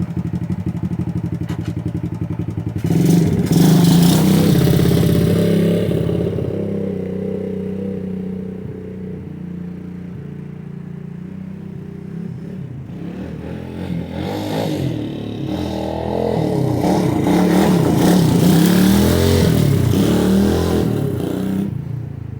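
Honda ATC70 three-wheeler fitted with a modified TRX90/105 motor revs up loudly in two long surges, dropping to a rough, sputtering idle between them, with clattering mechanical noise close by.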